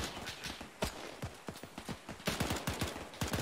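Rapid fire from a Bren gun during a military exercise comes as a fast, irregular run of sharp cracks. The shots sound fairly distant and faint and keep going steadily throughout.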